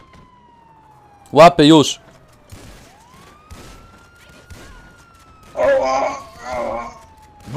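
Police car siren in GTA V, a long wailing tone that rises and falls steadily across the scene, moderately loud, with bursts of nearby male speech over it.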